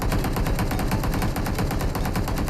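Sustained automatic gunfire in a battle royale video game, a steady rapid stream of loud, evenly spaced shots with no pauses.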